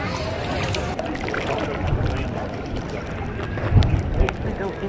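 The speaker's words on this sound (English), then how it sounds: "it's super windy" Strong wind in stormy, rainy Icelandic weather buffets the microphone as a steady, heavy low roar with gusts swelling near the end, while people are faintly audible beneath it.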